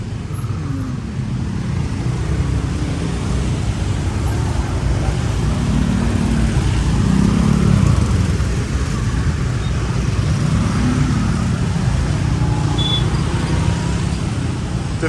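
Heavy rush-hour street traffic on a road in Bali, a steady dense roar of cars and engines with slow swells as vehicles pass nearby, continuous throughout with no pause.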